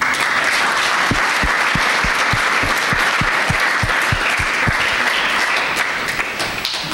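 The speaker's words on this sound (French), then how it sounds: "Je vous invite à les applaudir aussi." Applause from the congregation at an Easter celebration in a Catholic church in Koungheul, a steady wash of many hands clapping for seven seconds, with a few louder individual claps standing out.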